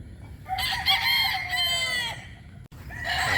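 A gamefowl rooster crows loudly and close by in one long, drawn-out cock-a-doodle-doo, followed by a brief pause and the start of another call.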